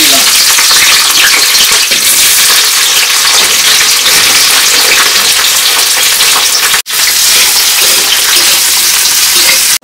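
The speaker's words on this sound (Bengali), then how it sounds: "চিকেনের জন্য প্রথম আমরা ক্যাপসিকামটাকে ভেজে নেবো।" Capsicum fries in a pan with a loud, dense, unbroken sizzle and crackle close to the microphone, steady from start to finish.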